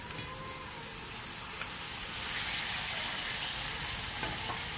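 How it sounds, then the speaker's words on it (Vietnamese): Vegetarian mock pork belly sizzles and crackles steadily as it is stir-fried in a pan with seasoning and a little water, a dense frying hiss that grows slightly louder halfway through, with no talking. "bây giờ mình sẽ xào nó lên ha, cho nó thấm gia vị vô nha các bạn"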